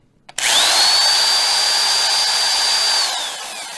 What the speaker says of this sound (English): I have a drill with a buffing head like this, and I just apply it to each fret